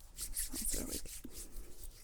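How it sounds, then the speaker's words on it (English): Soft close rubbing of fingertips coated in sinus ointment behind the ears during an ASMR home-nurse care scene, gentle and continuous with faint scratchy texture. "We're just going to start to kind of rub it a little bit behind your ears"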